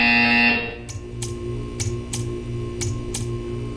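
Repeating buzzer in the video game Portal 2 in a test chamber: a series of short, sharp electronic buzz pulses at a steady rhythm over a low humming background drone, loud and close.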